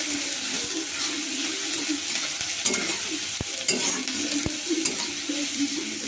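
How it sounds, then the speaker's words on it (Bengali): Onion, garlic and green chili frying lightly in a pan, a steady close sizzle with occasional scraping stirs and faint clatter throughout. "একটু পেঁয়াজ, রসুনটা কাঁচা লঙ্কা একটু হালকা করে ভেজে নিতে হবে।"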